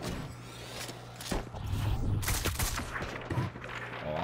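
Video game gunfire crackles in scattered volleys, several sharp shots and short bursts at mid distance over a low engine-like hum, with no voices in the moment.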